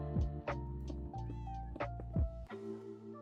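A Minecraft cat meows several times in close succession, each call short and tonal with a falling pitch, set against a steady game background drone.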